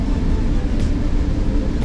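Case IH AF11 combine harvesting pinto beans gives a loud, steady low engine rumble and machine drone throughout, heard from close by.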